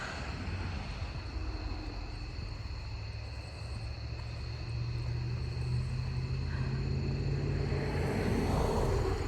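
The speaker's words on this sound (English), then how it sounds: "I don't want to video these cars going by." A continuous low roar of passing traffic swells gradually louder, like cars going by on a nearby road.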